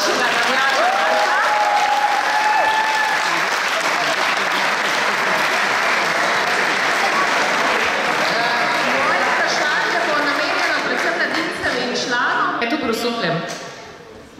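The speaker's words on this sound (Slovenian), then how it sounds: "prosim za en aplauz za našega navijača" Sustained, loud applause from a large indoor crowd at a handball club's 55th anniversary celebration in Grosuplje, greeting a club fan; dense clapping holds steady for over ten seconds before tapering off at the end.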